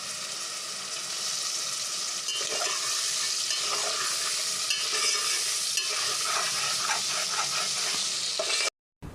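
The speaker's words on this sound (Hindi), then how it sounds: "आपने तकरीबन इसको भी 5 से 10 मिनट तक अच्छे से भुनना है ताकि चिकन वाइट हो जाए" Chicken pieces fry in oil in a pot for dum biryani, a continuous close sizzle broken by repeated scraping stirs, then an abrupt cut near the end.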